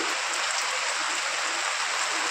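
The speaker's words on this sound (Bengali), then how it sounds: "প্রচুর বৃষ্টি হচ্ছে, খুবই ভালো।" Heavy rain pouring down, a dense, even hiss of falling water that stays steady and loud throughout with no voices.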